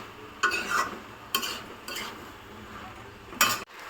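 Spoon stirring chili powder into pav bhaji in a pan, a few short scraping and clinking strokes spaced apart with soft sizzle between, close and moderately quiet.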